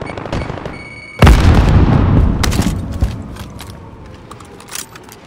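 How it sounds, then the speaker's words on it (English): A grenade blast in Call of Duty Modern Warfare: one sudden loud boom that rumbles and decays over a couple of seconds, followed by scattered distant shots and faint game noise. "Grenade's flying."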